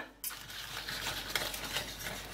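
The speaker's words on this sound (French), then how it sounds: "tout en remuant pour pas brûler mes œufs au fond, hein, jusqu'à ce que ma crème s'épaississe." A mixture of apple juice, butter, eggs and cream heats in a pan while being stirred, a soft continuous scraping and faint sizzle that starts abruptly after a short quiet moment and stays fairly low in level.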